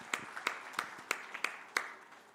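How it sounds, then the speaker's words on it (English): An audience at a book launch in New Delhi for The SIS Story claps, with about seven scattered sharp claps standing out over a faint, soft patter of applause, fairly quiet and distant. "a round of claps, please"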